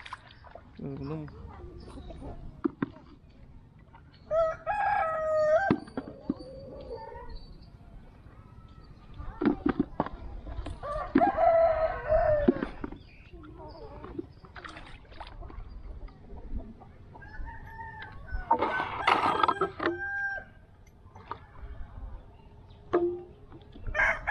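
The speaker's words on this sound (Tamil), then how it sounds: "இருபது கோழிகள் வச்சுருக்கோம் நம்ம பண்ணையில்" Twenty farm chickens on a rainy farm plot cluck intermittently and a rooster crows loudly in bursts, close by, alternating with stretches of people talking.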